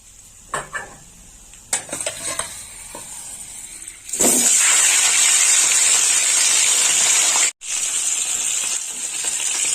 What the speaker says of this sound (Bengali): এইখানে মাছের মাথাটা ভেজে নেব